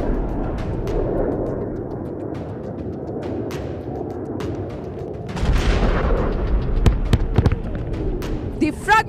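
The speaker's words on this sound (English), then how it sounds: "The fragmentation bombs have shredded the target to bits." Fragmentation bombs bursting on a target in a military strike, heard as repeated sharp distant blasts and cracks over a continuous low rumble, growing louder and denser toward the end.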